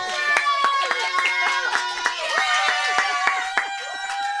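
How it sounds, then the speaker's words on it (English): An audience claps in sharp, distinct bursts over a bed of sustained tones, the applause fairly close and lively. "I think a throw a round of applause straight away for Adele."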